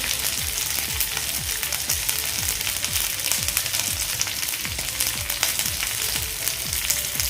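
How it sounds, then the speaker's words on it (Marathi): Bangda (mackerel) fish sizzling steadily in a hot pan, a dense continuous crackle of frying oil with faint repeated scraping or tapping underneath, close and unbroken with no voices. "हेही मासे आपले दोन्ही साईडने व्यवस्थित असे फ्राय करून झालेले आहेत"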